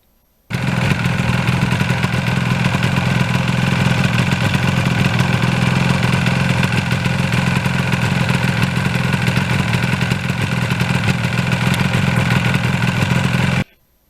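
A Kawasaki Ninja motorcycle engine runs loud and close for over ten seconds, its steady droning roar rising and holding as it goes through the gears, then cuts off abruptly.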